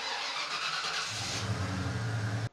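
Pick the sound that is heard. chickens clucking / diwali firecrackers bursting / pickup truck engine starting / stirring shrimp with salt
pickup truck engine starting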